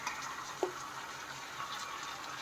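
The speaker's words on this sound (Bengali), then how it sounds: "একদম লোতে রেখে আমি চিকেনটা ভালো করে কষিয়ে নেব।" Marinated chicken with spices frying over a low flame in a pan, giving a quiet, steady sizzle with one brief clink of a utensil.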